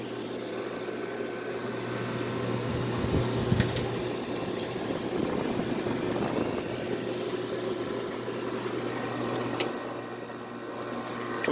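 A Hampton Bay 5000 BTU window air conditioner's compressor runs with a steady, strained hum and rattle, fairly quiet and continuous, with a few faint clicks.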